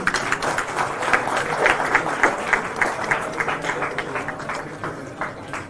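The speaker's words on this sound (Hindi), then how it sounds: "बुलंद आवाज है, जोरदार तालियों से स्वागत कीजिए।" An audience at a student tribute event honouring martyrs gives a welcoming round of applause for the state party president, a lively burst of many hands clapping that slowly tapers off.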